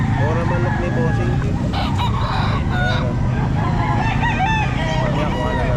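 Chickens cluck and call repeatedly over a steady low rumble, with a few crow-like cries rising above the busy, noisy backdrop of a pet market.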